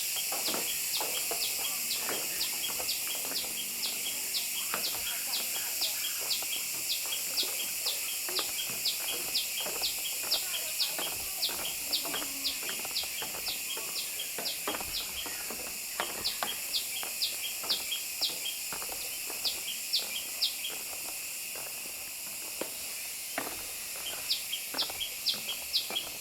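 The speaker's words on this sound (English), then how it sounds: "A lot of birds here." Small birds chirp steadily in quick repeated high calls for the whole stretch at the grounds of Wat Chaloem Phra Kiat Phrachomklao Rachanusorn, a Thai temple, under a constant outdoor hiss.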